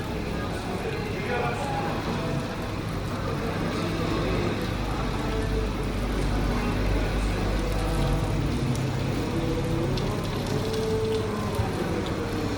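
A restaurant sizzling platter of shrimp, chicken, beans, onions and sauce crackles and hisses in a constant wash beneath steady talking.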